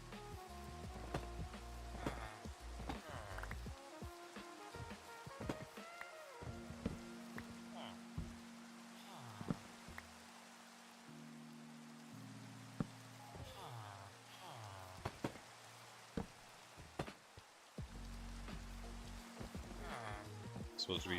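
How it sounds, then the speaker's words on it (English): Rain falls in the video game Minecraft, a steady soft patter running throughout beneath sustained game music tones and scattered sharp clicks. "And the rain, lovely."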